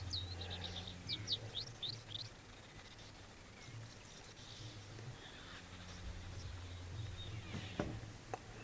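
Oxpeckers and starlings calling at a waterhole, a few thin, rapid chirps and tweets early on, then faint scattered calls over a quiet low background hum.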